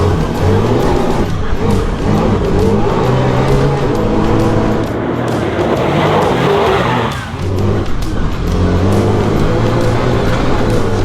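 Can-Am Maverick R side-by-side racing hard on a slick offroad track, engine roaring loud and continuous up close with tires skidding and drifting through a corner, a brief dip in the noise partway through.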